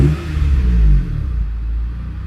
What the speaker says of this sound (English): I just started it up, so the engine's cold